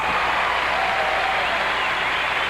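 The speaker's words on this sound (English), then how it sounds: "And you hear the crowd." A gymnastics crowd applauds a triple back at a men's event final, steady broadband clapping filling the arena from a distance.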